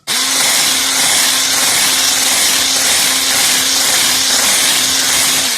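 Electric mixer beating sugar, oil, milk and eggs together for a cake, a loud continuous motor whir with a faint regular pulsing, close and without talk.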